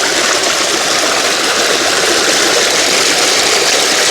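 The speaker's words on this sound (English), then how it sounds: "Wash off the apple then." Water gushes steadily outdoors while apples are washed for juice, a loud continuous rushing hiss with no breaks and no voices.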